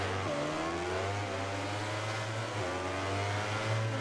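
Motorcycle engine in the MotoGP 19 racing game during a wet race start, the bike lifting into a wheelie; a loud, steady droning roar with rising pitch sweeps as it revs, continuous throughout with no talk.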